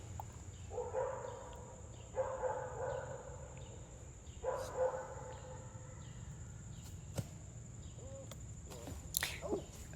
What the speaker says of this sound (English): You will hear dogs on this hole for some reason.